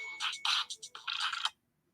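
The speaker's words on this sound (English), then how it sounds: "My phone's ringing." A mobile phone ringtone plays alone, a quick bright electronic melody of several chirpy notes lasting about a second and a half, then stops into silence.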